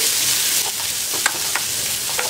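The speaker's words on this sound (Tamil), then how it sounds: "இப்போது சின்ன வெங்காயத்தையும் நம்ம கடாயில் போட்டுடலாம். நல்லா வதக்கிக்கலாம்." Chopped small onions sautéing in a kadai for a spinach kootu, a steady close sizzle with a few sharp stirring scrapes of the spoon against the pan.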